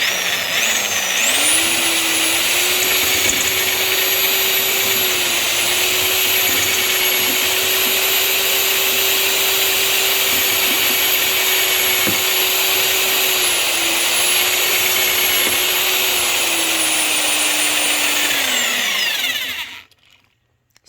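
A cordless drill drives a converted manual pipe bender, whining at a steady high pitch under load for about eighteen seconds before spinning down and stopping; no talk.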